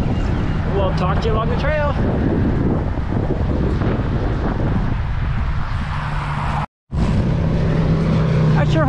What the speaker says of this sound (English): Oh, the wind. I don't know what it is, 25, 30 miles an hour.